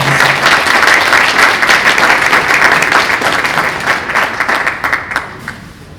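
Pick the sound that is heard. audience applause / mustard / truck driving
audience applause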